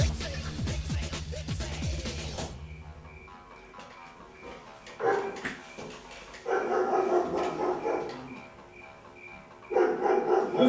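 A dog barks in a few bursts through a noisy indoor scene, with loud talk and clatter at the start followed by repeated barking spells spaced over the remaining seconds.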